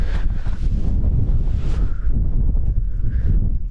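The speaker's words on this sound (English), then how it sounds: "we're not really sheltered from the wind" Strong wind buffets an exposed hilltop campsite on Kinder Scout, a steady loud roar with gusty rumbling against the microphone throughout and no talk.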